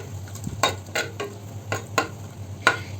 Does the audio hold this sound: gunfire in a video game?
no